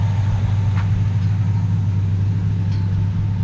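A 1975 Chevrolet C20 truck's engine runs at a steady idle, a loud, even low rumble throughout with a faint tick or two and no voices.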